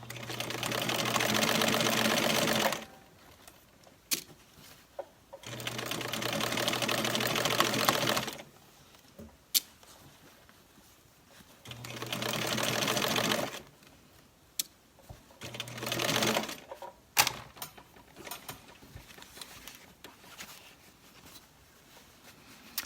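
A sewing machine stitching a hat lining runs in several steady bursts of a few seconds each, with short gaps of handling clicks and quiet in between, close and moderately loud.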